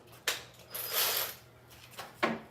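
Hand ratchet tightening a ground connection on a Jeep Cherokee XJ with a 4.0 engine, a few short clicking strokes with pauses between, close and fairly quiet, no talking.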